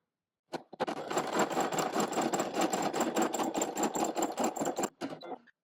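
A sewing machine stitches around a fabric appliqué in one fast, steady run of needle strokes lasting about four seconds, then stops abruptly with a brief clunk afterward, with no voices.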